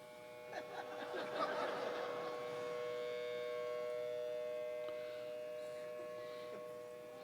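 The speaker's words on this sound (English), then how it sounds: "the sirens went off as I was standing at the lectern." A civil defense-style siren sounds a sustained, steady wail that fills the room at moderate volume, with a few audience chuckles and soft laughter early on.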